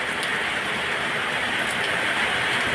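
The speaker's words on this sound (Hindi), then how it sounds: "बारिश तो इधर बहुत ज़्यादा ही हो रहा है" Heavy rain pours down in a dense, unbroken hiss, loud and steady from start to finish with no voices.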